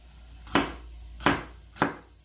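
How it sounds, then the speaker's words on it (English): A knife slices vegetables thin for chili on a cutting board, making three crisp, separate chops about half a second apart. Each chop sounds close and clear against a quiet background, with no voices. "And again, just like the onions, we're going to cut them up thin."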